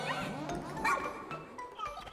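A dog barks and yips in the game Pikmin 4, a few short excited calls with soft game music and ambience behind them.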